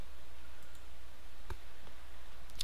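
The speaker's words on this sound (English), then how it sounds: "We click OK right here." A single soft mouse click on an OK button at an Ubuntu 9.04 computer, one brief faint tick in the middle of quiet room hiss, with another tiny click near the end.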